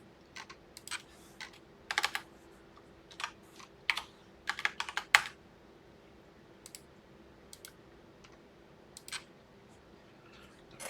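Keys clatter on a computer keyboard while C code is written, in uneven bursts of quick taps with short pauses between them, close and fairly quiet.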